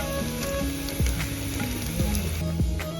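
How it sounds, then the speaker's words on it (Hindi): Garlic, onion and cumin frying in mustard oil outdoors on a riverbank, a steady sizzle with a few low clunks and scrapes of a utensil against the pan, no voices. "सरसों का तेल डालेंगे इसके अंदर, लहसुन प्याज डालेंगे इसके अंदर हम, जीरा डालेंगे 1 चम्मच"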